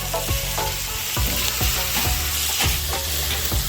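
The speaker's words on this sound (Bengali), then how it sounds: "পেঁয়াজটা লাল লাল করে ভেজে নেব," Onions frying in oil in a pan for chicken kosha, a loud, steady close sizzle with regular stirring scrapes roughly every half second throughout.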